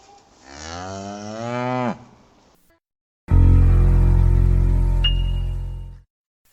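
A cow moos twice: a rising, drawn-out call that breaks off abruptly, then after a short silence a louder, deeper, sustained moo held for several seconds, close and alone.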